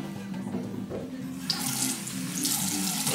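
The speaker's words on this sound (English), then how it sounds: "I am going to go ahead and wash my hands with my antibacterial soap." Tap water runs into a sink while hands are washed with antibacterial soap, a soft steady splash that grows brighter and fuller halfway through as the stream hits the hands and basin.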